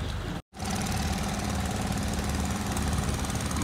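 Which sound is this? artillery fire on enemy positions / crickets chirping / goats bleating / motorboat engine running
motorboat engine running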